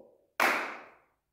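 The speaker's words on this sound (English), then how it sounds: "You're going to try and clap in line with where you want to catch it" A single sharp hand clap during a ball-catching drill in a cold indoor PE lesson, loud and close, with a brief bright decay and no talk over it.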